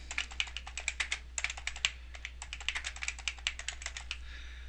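Rapid typing on a computer keyboard while a vendor name is entered into accounting software, a steady stream of light clicks in short bursts with brief pauses, close and clear over a faint low hum.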